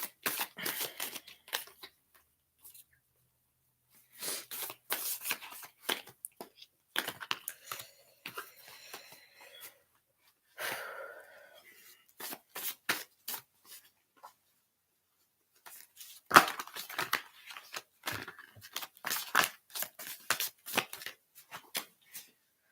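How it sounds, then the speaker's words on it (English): Tarot cards being shuffled by hand, soft papery riffles and slides in irregular bursts separated by quiet gaps, close and fairly faint, with no talking. "So I do have a little bit of a process when I shuffle."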